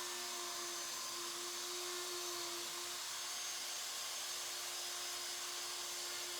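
Router cutting wood inside a jig at 3/8 inch depth while building storage bench legs, a steady high whining motor drone with a constant tone, faint and continuous throughout.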